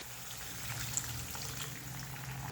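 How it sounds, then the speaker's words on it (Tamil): Water comes to a boil in a pan while veg rava kichadi is being cooked, giving a faint, steady low bubbling hiss that runs evenly throughout. "தண்ணி நல்லா பொலன்னு கொதிக்க ஆரம்பிச்சிருச்சு."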